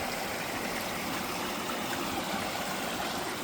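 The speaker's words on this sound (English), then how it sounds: "That's the pool draining, coming out into here." Natural pool draining out into a brook, a steady rushing stream of water flowing without pause, moderately quiet and even throughout.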